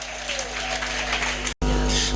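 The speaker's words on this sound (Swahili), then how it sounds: "Mpigie Bwana makofi mazuri ya kiwango." Congregation applauding during a church service; loud, dense clapping fills the space, breaking off abruptly for an instant before resuming just as strongly.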